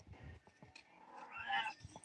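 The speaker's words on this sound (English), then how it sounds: "That's what my cat says." A house cat gives a drawn-out meow with soft purring and low rumbles around it, quiet and close, heard alone with no talk.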